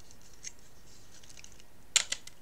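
A craft paper punch presses a small notch into paper for a quadruple folio album, giving a faint tick and then a short, crisp double snap in a quiet room.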